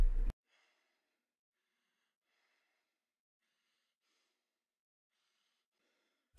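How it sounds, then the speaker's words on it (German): Heavy snorting breaths from a character in the horror video game Fear Therapy: after a short loud burst, a string of faint, rhythmic puffs and snorts repeats on its own over several seconds. "Irgendwer schnauft im Spiel, sehr heftig"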